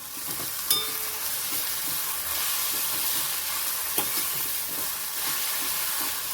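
Peas and fenugreek keema sauté in a pan with a steady, hissing sizzle throughout. Two faint clinks of the stirring spoon stand out above it, and no one talks.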